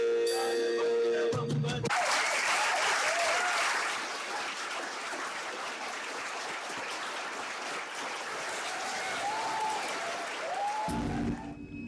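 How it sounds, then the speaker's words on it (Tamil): Audience applause after a Shiva Shakti dance performance at a school arts festival, a broad sustained wash of clapping lasting most of the stretch, with music at the start and end and some faint whistle-like tones. "அடடா, இன்னொரு கைத்தட்டல், இன்னொரு அருமையான நடனம்"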